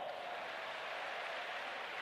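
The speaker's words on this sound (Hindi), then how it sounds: "तालियां बजाओ" A crowd at a religious gathering claps continuously, a dense, steady wash of applause heard faintly from a distance with no break.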